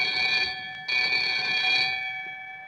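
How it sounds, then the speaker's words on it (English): Synth patch of a ringing telephone on a GForce M-Tron Pro, a steady electronic bell-like ring with a brief gap before it resumes, alone and fairly loud. "That's a ringing phone"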